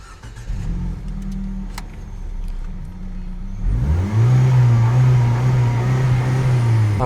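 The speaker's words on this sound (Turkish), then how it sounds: "Bir arabanın sesini dinleyelim." A newly bought car's engine starts and revs up, a low idle rumble giving way to a louder, rising drone that holds steady, heard close and alone.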